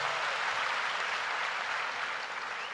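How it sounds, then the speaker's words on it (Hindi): A crowd applauding Atul Sharma at a company anniversary celebration, a dense, steady wash of clapping throughout, close and even, with no talking over it. "एक बार जोरदार तालियां फिर से अतुल शर्मा के लिए।"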